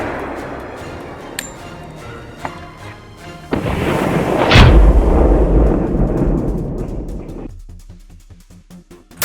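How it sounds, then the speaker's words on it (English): A single crisp hunting rifle shot at a boar in a pine forest, one loud booming report with a long rolling echo and rumble that fades away, followed by scattered clicks. "The prey steps into an open patch, and a crisp shot rings out."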